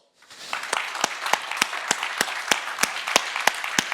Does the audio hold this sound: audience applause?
yes